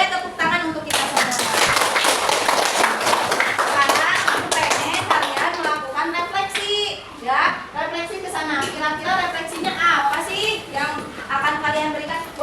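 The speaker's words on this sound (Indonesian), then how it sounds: "Boleh tepuk tangan untuk kita semua." An Indonesian primary classroom claps together, loud close hand claps at first, then children's voices and chatter mixing with scattered claps and taps.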